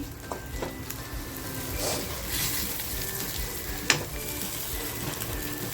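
Prepared masala added to a hot pan for a mutton dish, giving a steady crackling sizzle of frying with small pops and stirring scrapes throughout.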